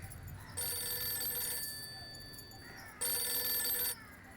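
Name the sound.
telephone ringing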